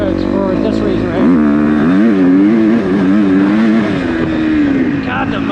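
A four-stroke dirt bike engine revs up and down in loud, close, wavering surges, the pitch climbing and falling repeatedly over a steady idle.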